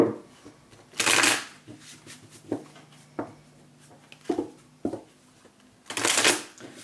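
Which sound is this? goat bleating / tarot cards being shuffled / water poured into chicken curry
tarot cards being shuffled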